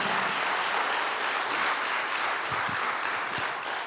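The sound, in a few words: congregation applauding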